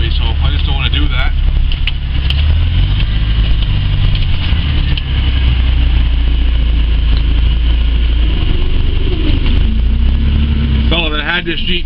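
The engine of a YJ Jeep Wrangler runs at a steady low idle-like rumble while plowing a snowy driveway, loud and continuous, with a few brief squeaky mechanical whines near the end.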